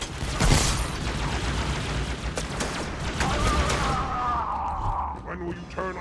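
Rapid bursts of gunfire in Halo 2 crackle through dense battle noise, with sharp shots near the start and a continuing loud firefight, mixed with game voices and speech.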